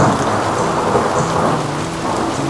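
Thunderstorm in Iowa, USA, with steady loud rain pouring down and a deep rumble of thunder rolling underneath, no voices.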